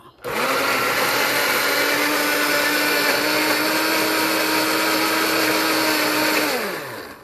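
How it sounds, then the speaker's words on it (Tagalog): A blender whirs steadily for about seven seconds, loud and continuous, blending lemon, yogurt, egg white, avocado, brown sugar and olive oil for a homemade face mask, then spins down at the end. "i-blend na natin siya"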